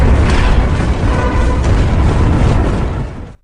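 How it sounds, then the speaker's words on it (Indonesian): Parliament building blowing up in a film, a loud sustained explosive roar with deep rumbling that holds for about three seconds before cutting off abruptly. "Akhirnya gedung parlemen benar-benar meledak diiringi sorakan kegembiraan para warga."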